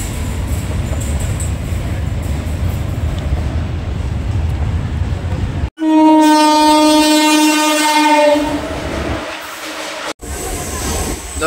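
A train passes close by at a station with a loud, sustained horn blast partway through, preceded by rumbling rail noise and followed by fading wheel clatter.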